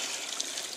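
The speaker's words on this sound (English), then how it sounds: "siphoning the pond" Garden pond water running through a siphon hose, a steady soft trickle close by, continuous for under a second with no voices.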